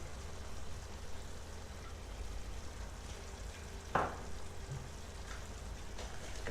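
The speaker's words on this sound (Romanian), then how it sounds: "Amestecăm." Chicken livers simmer in tomato juice with paprika and garlic, stirred at low volume with a steady soft sizzle and a single sharper scrape of the spoon midway.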